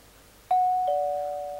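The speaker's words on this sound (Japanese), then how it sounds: "さあ、ピンポン来ました" A two-tone doorbell chime rings in the video game Amagami, a clean electronic ding followed by a lower dong that sustains and slowly fades, loud and alone over quiet background.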